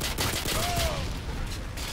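USP pistol fire in Modern Warfare 2 on the Rust map, a run of sharp shots in quick succession amid dense, loud in-game action with no speech.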